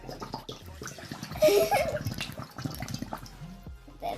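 Water pours into a bottle for a simulated experiment with a ping-pong ball, giving a brief splashing gurgle in the middle that is close and moderately loud, among light handling noises.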